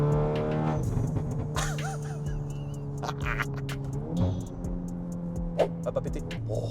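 Engine of a Volkswagen Golf 8R revving with a deep, sustained drone that swells and falls over several seconds, heard from close by with some talking over it.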